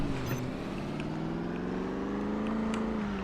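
An old land yacht car's engine idles steadily after being cranked up, a loud continuous rumble with a low droning tone that holds throughout.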